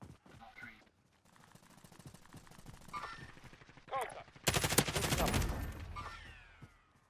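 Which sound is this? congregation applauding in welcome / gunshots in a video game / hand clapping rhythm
gunshots in a video game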